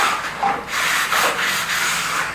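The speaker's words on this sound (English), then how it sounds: "I'm using 400 grit sandpaper." Wood being hand-sanded with 400 grit sandpaper, a series of soft rasping strokes in a back-and-forth rhythm, close and fairly loud with no voices.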